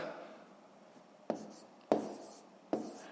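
Pen or pencil writing numbers by hand while working a long division sum, soft scratching with three sharper taps as digits are put down, quiet and close.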